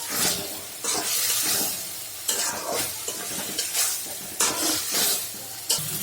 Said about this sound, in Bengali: ভেজে রাখা আলু বটবটিগুলা দিয়ে দিই।